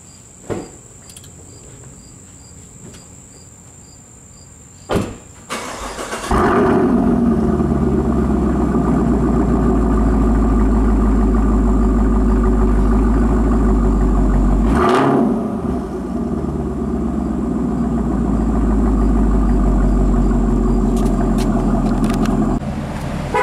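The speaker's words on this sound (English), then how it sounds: "let's hear this Borla S-Type that I just put on recently" After a few clicks and a crank, a 2017 Camaro engine starts and settles into a deep, steady idle through a Borla S-Type exhaust, with a brief blip midway.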